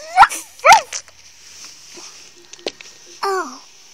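A dog gives two loud yelping barks near the start, followed by quieter scattered sounds and a final short whining yelp, with no talk over it.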